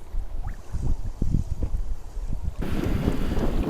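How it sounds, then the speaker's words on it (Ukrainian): Strong gusts buffet the microphone while fishing outdoors, rumbling low and roaring louder toward the end, with no voices. "Вітер просто шалений, як завжди."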